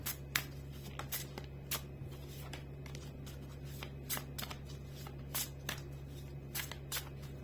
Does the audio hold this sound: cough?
no